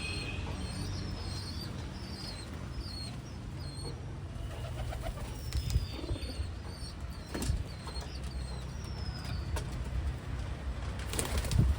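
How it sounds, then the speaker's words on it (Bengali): Pigeons gather to drink water, with soft cooing, occasional wing flaps and a few faint chirps over steady low outdoor background noise. "এক এক করে সব পায়রাই চলে এসছে জল খেতে"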